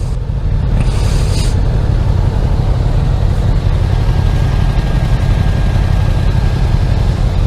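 A motorcycle engine idling close by with a loud, steady low rumble, broken only briefly by a short higher burst of noise near the start.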